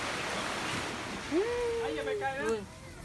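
Sea waves wash up onto a beach in a continuous broad surge and hiss that rises and falls, with wind across the microphone and a voice briefly calling out over the water.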